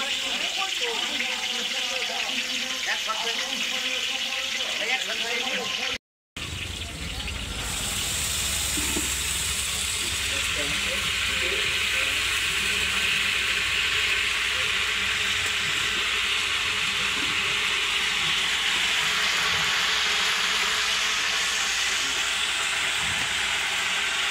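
Chopped onions dropping into a large biryani pot, followed by a loud, steady broadband sizzle and hiss that swells and holds for a long stretch, close by with voices faintly underneath at the start.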